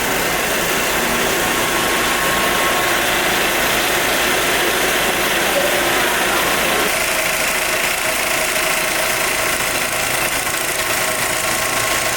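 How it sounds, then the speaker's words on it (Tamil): A coffee bean grinding machine makes a loud, continuous mechanical grinding rumble with a rattling, gear-like texture as beans are ground into powder. It runs steadily throughout with no speech. "அதுதான் இது நம்ம அரைக்கிற ப்ராசஸ் இதில் போட்டு நாங்கள் அரைச்சி"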